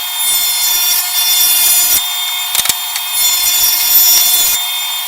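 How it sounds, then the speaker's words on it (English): A power saw rips a wooden board down to a 2 3/4 inch height for a drill press table fence, its loud high whine running steady with two brief breaks where the blade spins free between cuts. "here I'm going to rip this down to the 2 3/4 inch height"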